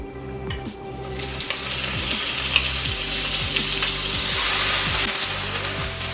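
Squash or zucchini frying in oil in a pan for bibimbap: a continuous close sizzle with a hissing texture, a few light clinks of utensils, and the frying growing slightly louder toward the end.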